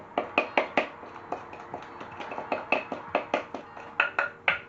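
Carrot cake mix tipped into a baking tin, with a quick series of sharp, close clinks and taps of a utensil against the tin at an uneven rhythm, alone with no talking.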